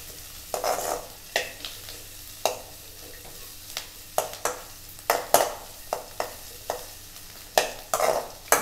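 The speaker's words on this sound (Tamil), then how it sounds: "நல்லா ஃப்ரை பண்ணிக்கோங்க." Onions frying over a low flame in a pan for tomato chutney, with a soft steady sizzle broken by repeated scraping strokes of a spoon stirring, close and clear.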